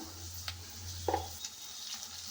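Ginger garlic paste fries in a pan with onions and turmeric for an amaranth curry. It gives a faint, steady sizzle over a low hum, broken by a few soft clicks and scrapes as it is stirred.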